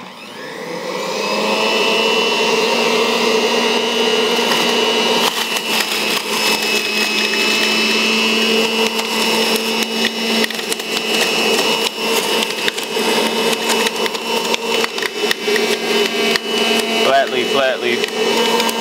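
Juicer grinding Italian flat leaf parsley, a loud steady motor whine with a harsh tonal hum that starts after a second and runs continuously throughout, with scraping, crackling texture as the leaves are pressed.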